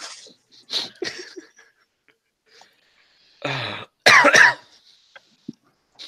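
A few scattered coughs and throat clearings, close and fairly loud, separated by silent pauses, with one sharp burst of coughing near the end.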